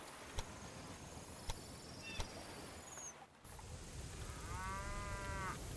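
Cattle low in the railway strategy game Railway Empire 2, one drawn-out moo near the end following a few sharp clicks and a brief dip, over a soft outdoor ambience.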